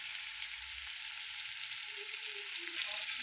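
Mustard seeds and cumin sizzle in hot oil, a steady close broadband frying hiss that holds evenly throughout with no talking.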